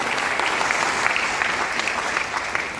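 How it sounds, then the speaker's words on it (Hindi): Seminar audience applauding a success testimonial, a thick, loud, continuous roar of many people clapping close by that holds steady to the end. "थैंक यू, ताली बजा सकते हैं"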